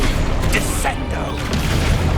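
Descendo spell cast in the Hogwarts Legacy video game: a dense, booming impact with crashing mechanical clatter, loud and continuous across the short burst, with game sound effects layered throughout.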